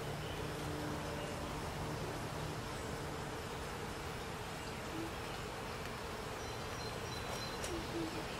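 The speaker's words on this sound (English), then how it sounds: "You hear them getting loud?" A dense, continuous buzzing of many honeybees in a hive fills the air, steady and fairly loud, with no voices.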